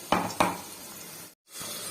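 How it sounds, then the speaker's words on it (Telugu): Coconut-coriander masala paste fries and is stirred in hot oil, giving a steady sizzle with two sharp scrapes of a spoon against the pan near the start and a brief dropout before the frying noise resumes. "పచ్చి కొబ్బరి కొత్తిమీర ఇవన్నీ ఇది కూడా పోపులో వేయించుకుందాం కొద్దిసేపు."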